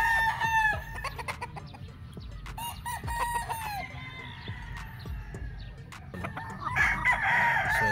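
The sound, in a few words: gamefowl rooster crowing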